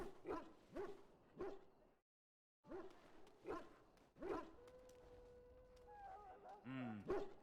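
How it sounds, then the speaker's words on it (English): Dogs bark and yip in a fantasy role-playing game, Dragon Age Origins, with several short sharp barks repeating, a brief pause, then a whimpering whine at the end, fairly close and over game background. "Doggos."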